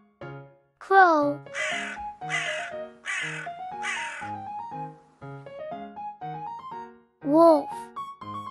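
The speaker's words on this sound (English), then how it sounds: "Crow." Four harsh, rapid crow caws ring out close together, then a lone call later, all over a light cheerful melody.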